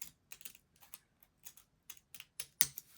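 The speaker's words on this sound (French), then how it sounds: "Ensuite, passer le petit ciseau cranté" Small pinking scissors snip paper circles for a collage, with a series of close, crisp clicks and snips in an uneven rhythm and one sharper cut near the end.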